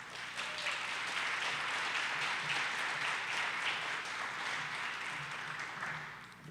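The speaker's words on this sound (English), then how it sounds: "Please give a round of applause to Elida Bates." Audience at a Strut For The Cure student fashion show event at Timberlane Regional High School applauds steadily for several seconds, a dense wash of clapping that holds loud and even before easing off at the end.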